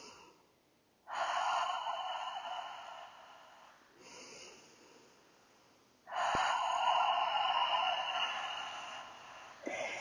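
Slow, deliberate breaths during a yoga flow, each long airy inhale or exhale rising and falling in turn, close and fairly soft, with quiet pauses between them and no talking.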